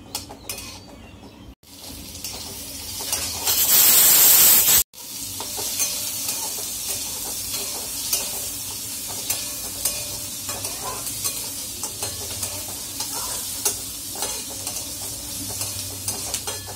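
Onion frying in oil in a kadhai while being stirred, a close steady sizzle with scraping and clinking of the spoon, interrupted early by a short burst of loud hissing noise.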